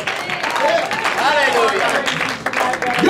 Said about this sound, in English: Somebody give the Lord a hand clap.